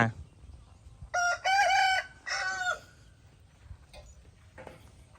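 A rooster crows loudly close by, a drawn-out crow in several strained bursts, followed by a few fainter clucks and calls from chickens in a quiet rural yard.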